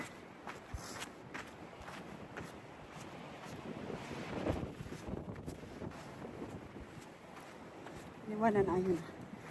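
Gusty wind buffeting the microphone outdoors at sand caves in the evening, a continuous rough rumble with footsteps crunching along and a voice briefly heard near the end.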